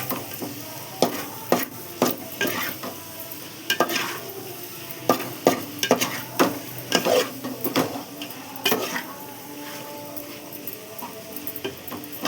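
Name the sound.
stir-frying in a pan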